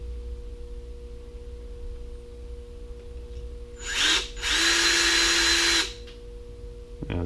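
A power drill bores into the pilot screw of a Harley CV carburetor in a loud, high whine lasting about two seconds, after a short burst, over a faint steady hum.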